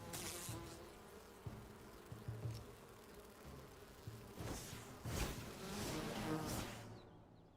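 Bees buzz faintly in the Enshrouded video game, a thin insect drone that fades in and out beneath scattered soft game noises and swishes before the sound cuts out at the end.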